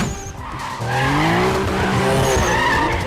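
Tires squeal loudly as a car drifts through the last turn of a 2 Fast 2 Furious street race, a sustained rising screech over steady engine roar lasting a few seconds.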